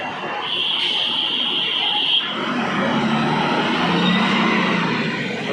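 An MSRTC Shivshahi bus pulls in on a rainy road, its engine rumble and tyre hiss filling the scene, with a thin buzzer-like tone sounding briefly at the start.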